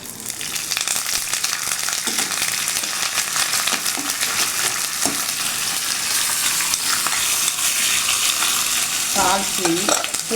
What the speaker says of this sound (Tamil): தாளித்து போட்டு உடனே